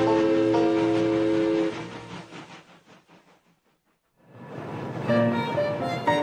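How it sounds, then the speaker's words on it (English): Steam train chugging along, a loud horn-like tonal blast and rhythmic chuffs fading to near silence before the whistle and rolling rail noise swell back in. "as the train chugged across the country"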